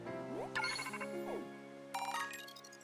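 Bright chiming phone notification jingle from a Pokémon video game, two short melodic bursts of rising electronic tones over a soft sustained background music bed, fairly quiet.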